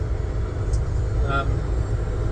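A Citroen AMI electric car drives with a steady low road rumble and hum from inside the cabin, continuous throughout.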